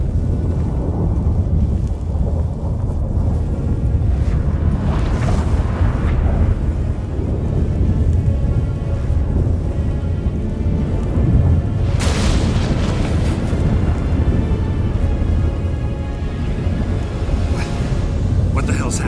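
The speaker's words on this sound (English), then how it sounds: "That a storm?" Heavy thunderstorm in The Witcher III, with a steady roar of rain and wind, deep rumbling thunder and a sharp crack of thunder about two-thirds of the way through, all loud and continuous.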